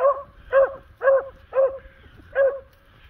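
A hound barks five times in a steady, evenly spaced series while out running with another dog; the barks are loud, close and clear against a quiet background.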